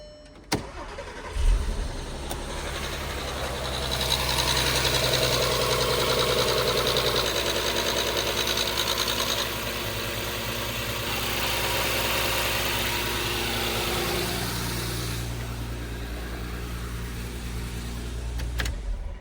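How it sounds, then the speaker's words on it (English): A car engine in a VW Scirocco project cold-starts with a sharp crank and catch, then settles into a steady, loud idle with a light chain rattle audible on the cold start, the revs easing slightly toward the end. "I noticed a bit of chain rattle as well on the cold start."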